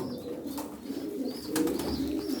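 Low, throaty cooing from pigeons in a breeding coop rolls on continuously, fairly close and steady, with a few faint higher chirps and rustles around it.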